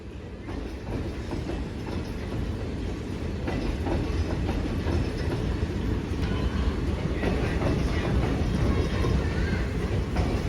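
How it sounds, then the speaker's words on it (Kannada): The 17225 Narsapur–Amravati Express rolls into platform 2 at Munirabad station, a loud steady rumble with rhythmic clickety-clack of wheels, close by and building slightly. "17225 ನರಸಾಪುರ ಅಮರಾವತಿ ಎಕ್ಸ್ಪ್ರೆಸ್ ನಮ್ಮ ಮುನಿರಾಬಾದ್ ಸ್ಟೇಷನ್ ಅಲ್ಲಿ ಪ್ಲಾಟ್ಫಾರ್ಮ್ ನಂಬರ್ 2ಗೆ ಹೋಗ್ತಾ ಇದೆ"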